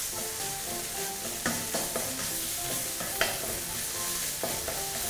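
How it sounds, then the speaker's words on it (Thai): Green curry paste stir-fried in a pan for a beef green curry, a continuous close sizzle punctuated by sharp utensil scrapes and taps against the pan. "จากเราผัดพริกแกงหอมแล้วนะคะ"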